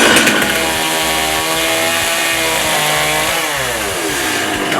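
A chainsaw runs at a loud, steady roar while cutting log railing wood, its pitch dipping slightly as the chain bites in, up close with no voices.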